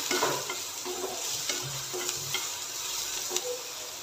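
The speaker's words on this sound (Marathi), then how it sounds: "मिरची, लसूण आणि अगदी थोडंसं आलं मिक्सरला बारीक करून घेतलंय मी, ते ॲड करायचं आहे आणि हे देखील तेलावर 1 मिनिट परतून घ्यायचं आहे" A ground paste of green chili, garlic and a little ginger sautés in hot oil, giving a close, steady sizzle broken by soft stirring scrapes and light utensil taps, with no voices.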